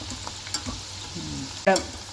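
Cauliflower pieces fry in a pan over a medium flame with a soft steady sizzle, a few light stirring knocks and one sharp clatter near the end.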